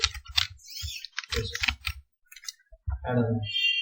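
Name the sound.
typing on a computer keyboard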